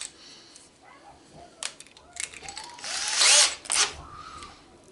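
A cordless power drill spins in short trigger bursts, revving briefly as the chuck loosens and tightens quickly, then a louder whirring run near the end, close and without talk.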